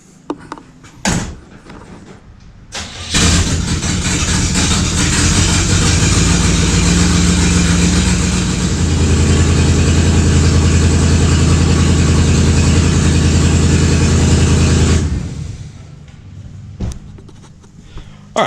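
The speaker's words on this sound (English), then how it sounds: "Now the car's running really good. It is super loud, super, super, super loud." A 1960 Chevrolet Impala engine roars loudly and steadily for about twelve seconds after a few door-like clunks, its low rumble deepening midway, then cuts off.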